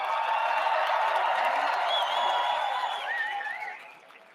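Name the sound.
audience applause for military families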